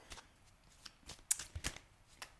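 Soft, irregular riffling and flicking as playing cards are shuffled close by, quiet with a few sharper snaps.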